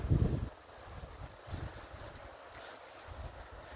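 Wind gusting outdoors during a typhoon, buffeting the microphone with a strong rumbling blast at first, then continuing in softer, uneven gusts.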